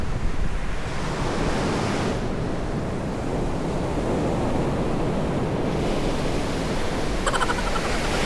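Sea waves wash steadily onto the shore at a beachfront campsite in Palauig, Zambales, a continuous broad roar of surf mixed with wind buffeting the microphone for the whole stretch, with no voices.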